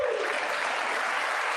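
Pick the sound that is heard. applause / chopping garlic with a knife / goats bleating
applause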